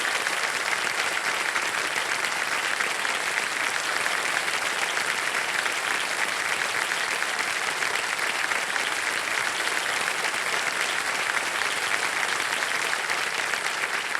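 Sustained applause from an audience fills the whole stretch, dense and steady clapping without pause.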